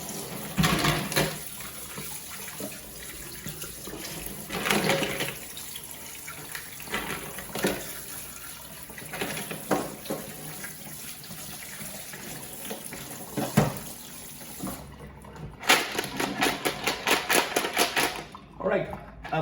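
Live clams being rinsed under a running tap, a continuous wash of water with shells shifting and clattering, punctuated by bursts of splashing, while a person talks over it.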